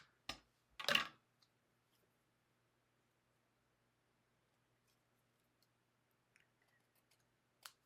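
Brief crisp snips of scissors cutting through a vellum flower, a couple of quick cuts near the start, then near silence with a few faint ticks later.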